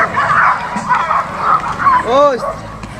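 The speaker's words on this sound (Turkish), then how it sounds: "Ay bunu küçük köpek kovalıyor." A small dog barks and yips several times in quick, high bursts amid lively talking voices nearby, with one rising whine-like call near the end.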